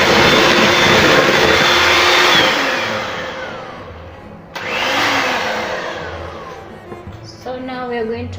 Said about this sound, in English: You need to whisk it until it's smooth and soft.